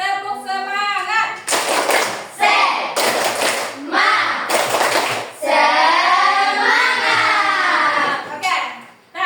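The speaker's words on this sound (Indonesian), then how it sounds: "Kita akan melaksanakan tepuk semangat." A classroom group of students perform a rhythmic 'tepuk semangat' spirit clap, loud patterned bursts of clapping alternating with chanted voices.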